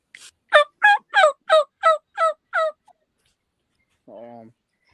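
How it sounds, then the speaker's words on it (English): A raspy Patriot mouth-reed turkey call from Early Bird Game Calls gives a run of seven quick, rhythmic yelps close by, then a lone softer note after a brief pause. "This is our raspy Patriot call. And here's how it sounds."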